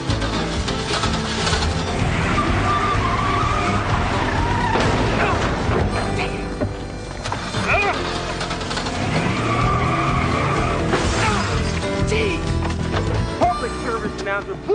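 A car skids in a scene from a TV crime drama, a tire screech running through a dense, loud mix of music, voices and other action sounds.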